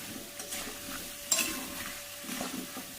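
A curry being stirred in a sizzling pan, with a utensil scraping and turning the food in soft repeated strokes over a low frying hiss.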